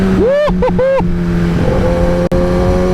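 Kawasaki ZX-10R sport motorcycle on twisty roads, the engine droning steadily at high revs under heavy wind rush, with a voice briefly whooping over it near the start.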